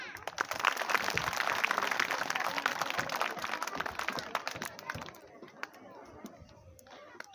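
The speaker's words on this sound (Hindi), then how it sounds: "जरा जोरदार हो तालियां" Applause at a government upper primary school annual day celebration, a crowd of children and guests clapping loudly and briskly for several seconds before it thins into scattered claps and murmurs.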